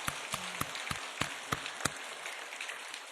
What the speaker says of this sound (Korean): 우리 하나님께 영광의 박수 한번 드립시다